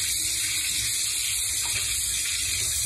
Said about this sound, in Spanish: Esto que está saliendo por ahí es agua sanitizada